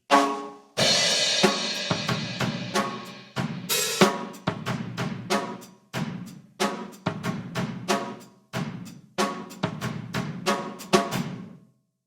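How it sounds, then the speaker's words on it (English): A drum kit plays a steady rock beat with kick, snare and an open hi-hat that washes over certain beats, repeated in a loose looping pattern, close and loud. "open hi-hat, stock beat, and then adding a note on the snare drum"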